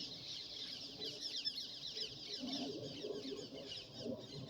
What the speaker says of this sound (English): Them birds are loud, man.